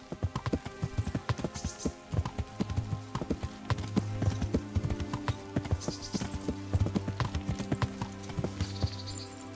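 Horse hooves clip-clopping steadily in Kingdom Come: Deliverance, a continuous rhythmic trot over a bed of game music, with a brief whinny possible.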